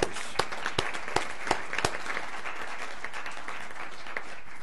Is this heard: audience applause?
yes